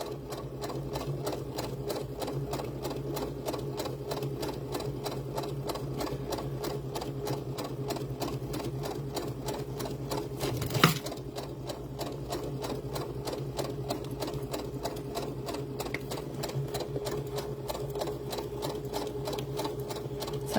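A sewing machine stitches jute doll hair with a steady, rapid mechanical hum and ticking needle that runs without a break, interrupted once midway by a sharp click.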